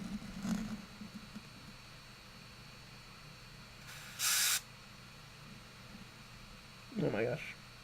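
An airbrush sprays paint onto a Warhammer 40k Kill Team Tempestus Scions miniature in two short, sharp hissing bursts, the second followed by a brief creak, over a quiet room hum with a little talk early on.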